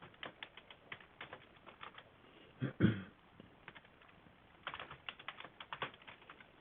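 A computer keyboard being typed on in rapid bursts of close, crisp key clicks, with a heavier thump midway and another quick run of keystrokes near the end, faint and alone.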